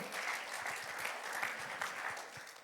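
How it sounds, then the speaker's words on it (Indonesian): Church congregation applauding during a Sunday service, a steady dense clapping from many hands that runs throughout without pause. "Mari berikan tepuk tangan."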